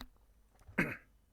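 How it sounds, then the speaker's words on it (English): A single short cough, close and fairly quiet, with a little throat noise before it and silence after. "1 sec, let me cough."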